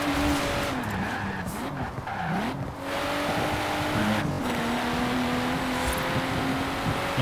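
Tires squeal in a long continuous skid as a car drifts in Forza Horizon 4, engine droning steadily under the screech, close and loud with no voices.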